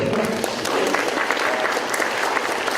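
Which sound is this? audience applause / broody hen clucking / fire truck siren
audience applause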